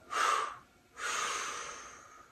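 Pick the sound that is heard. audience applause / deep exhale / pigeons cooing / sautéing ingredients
deep exhale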